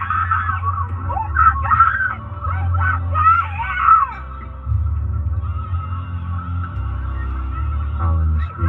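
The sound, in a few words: people howling and screaming at spring break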